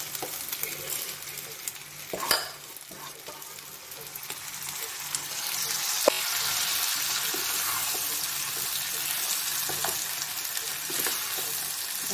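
Soaked rice fries in a pan for garlic tomato rice, giving a steady broadband sizzle with scraping stirs and an occasional clack of a utensil. The sizzle swells louder about halfway through and then holds, with no talking.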